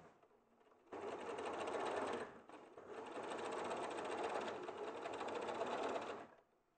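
A sewing machine chain piecing fabric runs in two loud, steady bursts, the first about a second long after a quiet start and the second longer, with a brief pause between and a quiet fade at the end.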